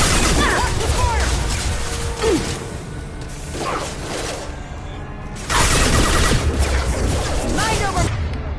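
Gunfire and combat effects in the video game Mass Effect, with sweeping swishes, impacts and bursts of shots loud throughout, under a voice speaking, with a brief lull near the middle.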